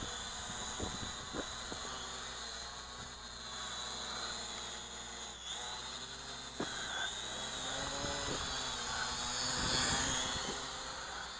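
A small budget E88 Pro folding FPV camera drone flies outdoors in gusty winter wind, its steady high-pitched rotor whine holding throughout at moderate distance, rising slightly near the end, with a few faint knocks and wind noise underneath.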